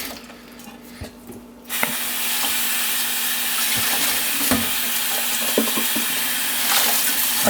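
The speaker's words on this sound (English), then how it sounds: "clean water, and I just rinse it out like that." Clean water runs into a vacuum bottle to rinse out the soap, a steady close splashing and gurgling stream that starts abruptly after a quiet moment and keeps going with small clinks and sloshes.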